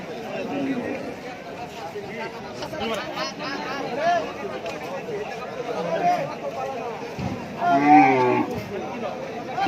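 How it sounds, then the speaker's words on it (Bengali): Cattle at a busy cow market, with a few low moos rising over constant crowd chatter and talk nearby, the loudest call near the end. "এই দেখেন কত বড় গরু।"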